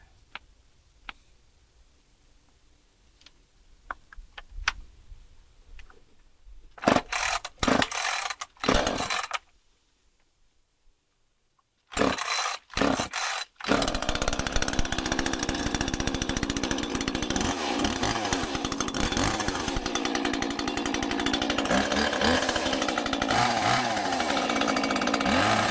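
A new Husqvarna T525 chainsaw is started for the first time: several sharp pull-cord bursts and sputters with short gaps, then the small engine catches and runs loudly and continuously, close to the microphone.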